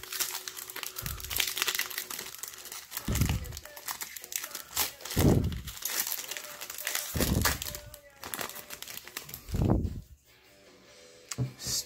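A pack of baseball cards being torn open, its foil wrapper crinkling and crackling in several loud close bursts spaced a couple of seconds apart, with someone talking between and over them.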